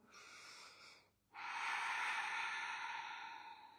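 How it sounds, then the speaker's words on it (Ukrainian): Deep breathing during a morning exercise routine done lying in bed: one airy breath fades out, and after a short pause a long, loud, rushing breath follows, close and with no voices. "Глибоке-глибоке дихання."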